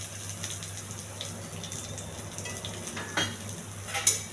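Onions, curry leaves, cumin and green chillies frying in a pan give a steady soft sizzle with occasional stirring scrapes and a sharper clink near the end, with no voices.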